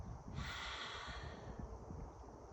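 A deep, drawn-out exhale during a standing stretching and breathing exercise, an airy breathy rush rising after a brief pause and holding steadily to the end, close and fairly soft with low rumble underneath.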